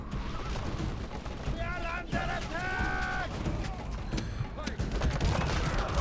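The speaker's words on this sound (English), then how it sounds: "Archers are shooting as well." Battle din from Rome: Total War with massed missile volleys and impacts in a continuous roar, several brief tonal horn- or shout-like bursts rising above the noise midway.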